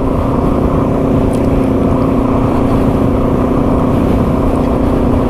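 A Yamaha TW200 dual sport motorcycle rides along the Lake Superior ice road at about 18 mph, its engine a loud, steady, close droning hum with wind noise and no pauses.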